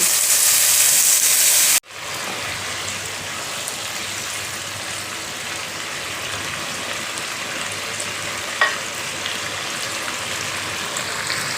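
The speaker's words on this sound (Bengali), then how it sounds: "এবার এখানে টমেটো সস সোয়া সস আর চিলি সস রেখেছি একসঙ্গে দিয়ে দিচ্ছি" Tomato sauce, soy sauce and chili sauce poured onto spices frying in a pan, giving a loud hiss that starts abruptly after a brief louder burst, then a steady, even sizzle that continues without talk.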